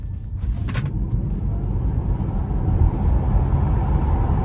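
Tesla Model 3 Performance accelerating hard up a motorway on-ramp: a steady, loud low rumble of road and tyre noise that swells slightly as speed builds, with no engine note and no talk.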